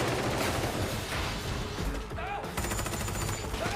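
Bursts of gunfire in a film scene, dense and sustained against music and noisy background sound.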